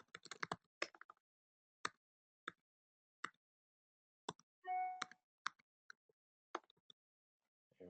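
Keys on a computer keyboard clack in scattered, irregular taps and short bursts with pauses between, close and dry, while someone enters a username; a brief tonal blip sounds midway and there is no speech.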